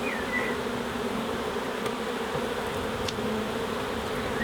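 Honey bees buzz around an open beehive full of honey frames. The drone is continuous and even, at moderate volume, with a few individual bees whizzing close by.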